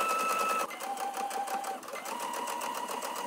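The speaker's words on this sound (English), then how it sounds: "we're just gonna top stitch all the way down here." Sewing machine top stitching down the fly of high-waisted wide-leg trousers, a steady close whirring run with a slight shift in pitch and speed partway through, no talk.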